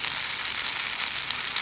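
Backpacker potato cakes fry in a pan at a campsite, giving off a short, even, crackling sizzle close by with no voices.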